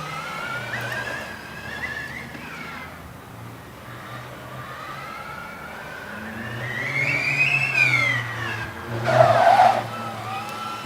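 Formula Student race cars lap an endurance track at FSG, their high-revving engines whining up and down through turns, with sharp tyre squeal and skidding near the end over a steady background crowd hum.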